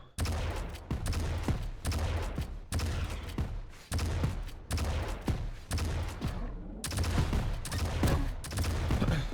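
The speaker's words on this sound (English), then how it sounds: "A messy rocket fight over at..." Rapid rocket and weapon fire from a multiplayer match in Quake Champions, a dense run of loud repeated bursts and blasts with brief gaps, continuous and close throughout.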